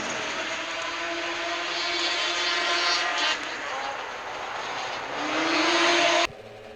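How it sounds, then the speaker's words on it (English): Racing snowmobile engines rev in a steady, loud, high buzzing drone at a championship snowmobile derby, pitch rising and dipping as several machines wait at the start, then cutting off sharply near the end. "Everybody's revving it up"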